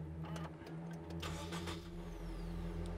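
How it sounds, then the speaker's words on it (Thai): A DFSK Glory i-Auto car engine runs with a steady, close, humming idle and a few light mechanical clicks over it. "ลองติดเครื่องกันดูครับ"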